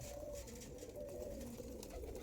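Andhra Abluk and Andhra Kalanka pigeons, a breeding pair, coo steadily and close by in a low, continuous throaty murmur with no pauses.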